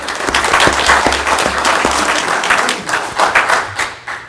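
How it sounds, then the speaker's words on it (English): An audience at a city commission meeting bursts into applause for a $50,000 donation, a dense burst of many hands clapping that swells and then tapers off over a few seconds. "Let's give him an applause"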